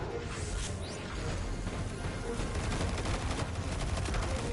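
Rapid, sustained automatic gunfire from a weapon in Destiny 2, a dense unbroken stream of shots filling the whole stretch at steady loudness.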